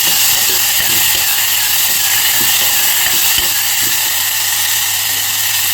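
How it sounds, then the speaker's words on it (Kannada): Chopped tomatoes frying over a low flame in a pan after the onions have browned: a steady, loud, broadband hiss of oil sizzling runs continuously, with a low hum beneath and no speech. "ಟೊಮೆಟೊ ಹಾಕ್ಕೊಂಡು ಮತ್ತೆ ಸ್ವಲ್ಪ ಫ್ರೈ ಮಾಡೋಣ."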